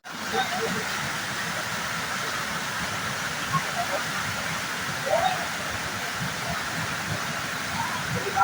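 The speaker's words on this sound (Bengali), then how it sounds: "আর ঝর্ণার জলটা এখান থেকে নেমে যাচ্ছে নিচের দিকে" Steady broadband rush of waterfall water spilling down a hillside at Panchalingeshwar, still flowing well in winter, continuous and moderately loud throughout with a few faint voices in the background.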